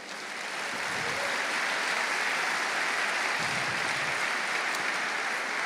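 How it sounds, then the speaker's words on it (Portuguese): Sustained applause from a church congregation at a men's leadership conference, a dense steady wash of many hands clapping that swells in at the start and holds loud throughout. "Pode aplaudir o Senhor, meu irmão."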